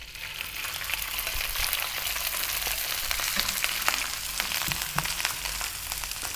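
Rice frying in a hot pan over high heat, with a steady, dense sizzle and crackle that runs loud and unbroken throughout, no voices.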